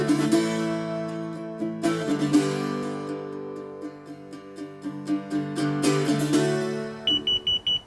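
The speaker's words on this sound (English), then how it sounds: "It's just this low battery indicator beeps at a certain level" A short series of high electronic low-battery beeps from a Mighty Mule gate opener near the end, quick and evenly spaced, preceded by sustained tonal music-like sound.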